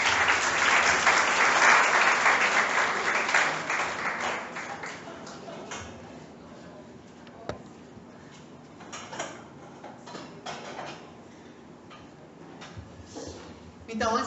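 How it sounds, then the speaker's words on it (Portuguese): Audience applause for a couple at a talk on courtship and marriage, loudest at the start and thinning into scattered claps over the following seconds, with some talk. "Podem aplaudir eles, obrigado."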